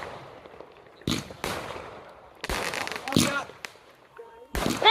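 Fireworks go off as several sharp, loud bangs and crackling bursts spread over a few seconds, with people talking and shouting in between.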